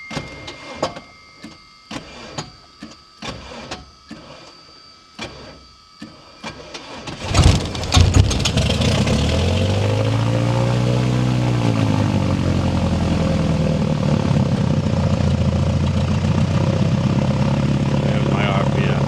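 A Lake amphibian aircraft's propeller engine cranks with a series of stuttering clicks and puffs, catches, then settles into a loud, steady idle close by, with people talking over the intercom throughout.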